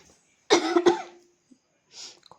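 One person gives a short, sharp cough with a brief throat-catching follow-up, close and clear, while cooking a chicken dish in a home kitchen; a faint rustle comes after it.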